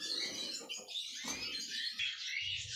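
Rosella parrots give a quick run of high, overlapping chirps and squeaky calls close by, faint overall with some rustling beneath.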